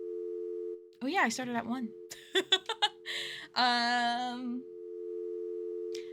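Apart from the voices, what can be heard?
phone tone on a livestream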